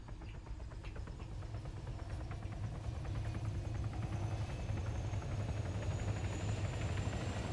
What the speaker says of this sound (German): Gerade einen Heli gefunden.